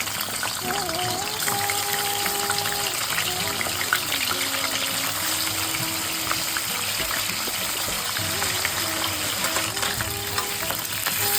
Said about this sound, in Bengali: কড়াইতে সর্ষের তেলটা আমাদের গরম হয়ে গেছে। এবার আমি মাছগুলো দিয়ে দেব, মাছের কাঁটাগুলো।